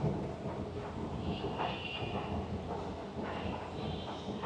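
Singapore MRT Circle Line train arriving at an underground platform near Chinatown, a steady broad rumble with rising wheel and brake squeal, loud and continuous throughout.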